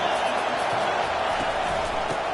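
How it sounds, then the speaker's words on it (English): College football stadium crowd at a Boise State versus Wisconsin game, a steady broad roar of distant massed voices and cheering, loud and unbroken with no distinct individual sounds. "This crowd bringing the energy and noise early."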